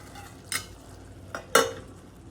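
Brinjal and potato pieces cooking in oil in a pan, a soft, steady low frying hiss broken by two or three sharp scraping stir strokes, close and fairly quiet.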